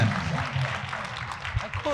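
Applause and cheering from a convention audience at a voice actors panel, a steady wash of clapping at moderate distance with no talk over it.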